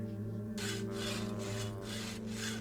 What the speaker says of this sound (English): hopefully, we can use our hacksaw on the bar